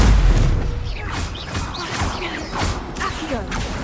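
Spell-casting effects in Hogwarts Legacy during combat, a series of whooshing magical bursts, thuds and crackling impacts following each other in quick succession, loud and close.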